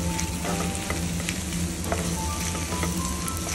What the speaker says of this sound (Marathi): हळद थोडीशी छान परतून झाल्यानंतर आपण जे उकडलेले बटाटे होते ते थोडेसे मॅश केलेले होते ते यामध्ये ॲड केले.